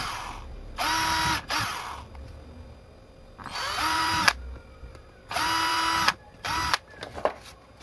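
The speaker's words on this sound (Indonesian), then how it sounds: "di sini kita bor bagian kedudukan kakinya" A small high-speed drill whirs in three short bursts, spinning up and cutting briefly into a circuit board for an SMD diode's leg holes, with quiet pauses and light handling clicks between.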